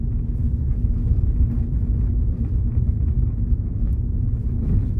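A 2023 Hyundai HB20S Platinum Plus with three people aboard rolls over an irregular stretch of road, heard from inside as a loud, steady low rumble with an even hum and no talking.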